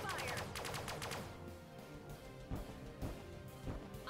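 Starship pulse weapons fire in the Sunrider space battle video game: a rapid burst of sharp shots at first, then a few heavier thuds, all fairly quiet.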